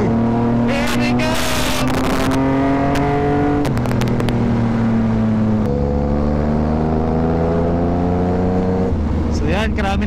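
A BMW F900R motorcycle pulls away at the start of a ride, its engine revving up through several gears in a loud, close, rising roar with distinct shifts between pulls, and a rider shouting briefly at the start.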